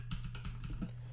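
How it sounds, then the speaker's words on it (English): Quick, light keystrokes tapping on a computer keyboard, a short irregular burst of clicks heard close and fairly quiet. "I'm typing back to Tony now in our chat"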